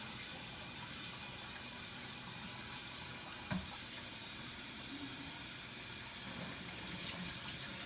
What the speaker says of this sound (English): I'm going to do one more rinse just to be safe.